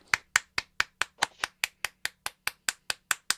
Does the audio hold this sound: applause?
yes